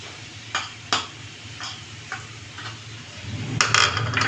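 Chopped jackfruit and coconut stirred in a pan for traditional chakka ada, with a few distinct spoon taps against the metal over a soft sizzle, then a louder run of scraping and clattering at the end.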